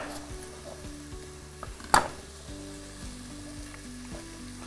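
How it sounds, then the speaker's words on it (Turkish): Onions and potatoes sizzle steadily in a pan, a continuous close frying hiss with light stirring and one sharp clatter partway through. "Soğan tabii ne kadar çok kavrulursa, ne kadar çok karamelize olursa o kadar lezzetlenecektir."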